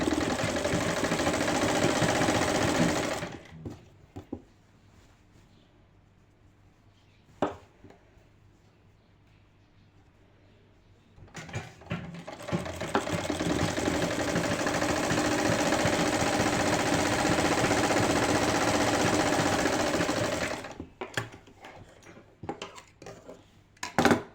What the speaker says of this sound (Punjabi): ਪਹਿਲਾਂ ਆਪਾਂ ਇਹਨਾਂ ਨੂੰ ਬਸ ਸਿੱਧੀ ਸਲਾਈ ਲਗਾਉਣੀ ਆ